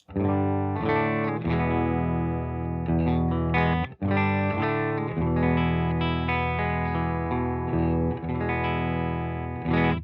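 An electric guitar through a ChiralityAudio Black Swan fuzz pedal into a 1967 Fender Bassman plays thick, saturated chords and riffs, loud and sustained, with a brief pause before the playing resumes.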